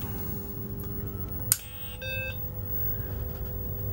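A repaired BBC Model B computer gives its short startup beep, a clean electronic tone lasting about a third of a second after a sharp click, heard alone over a steady low hum.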